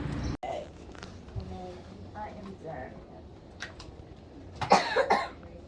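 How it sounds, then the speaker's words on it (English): A child coughs several times amid room noise in a children's hospital emergency room, ending in a louder burst of harsh coughs near the end. "Do you cough like that all the time?"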